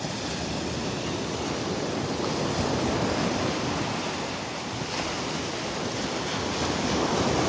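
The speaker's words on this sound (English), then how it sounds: "Look how rough that water is" Rough ocean surf at a beach in North Naples, Florida, near the pass by Fort Myers Beach, roaring steadily and loudly throughout with wind noise mixed in and no talking.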